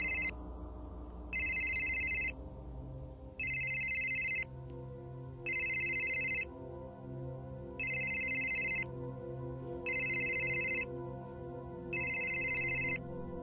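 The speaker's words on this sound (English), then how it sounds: "It's Ducky's phone." A phone ringtone repeats in regular bursts, about one second on and one off, six times, over a sustained musical background.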